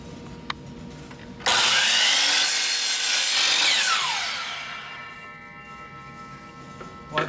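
A miter saw cuts through a wood board with a loud whining blade that rises on the cut, holds for a couple of seconds and then winds down. A short pause comes before it, with quiet room noise after.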